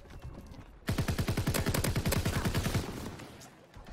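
Rapid automatic gunfire in the pirate-themed video game Sea of Pigs, a loud sustained burst of evenly spaced shots lasting about two seconds before trailing off, with a brief quiet lead-in.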